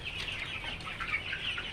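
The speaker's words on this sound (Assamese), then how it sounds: "ইয়াত 100মান মুৰ্গী আছে" Around a hundred chickens kept indoors in a home farm cluck continuously, with overlapping bird calls forming a steady, close, moderately loud chorus and no talking.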